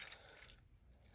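A set of car keys jangling close by, a short metallic rattle with a few bright clinks, quiet and alone with no voices.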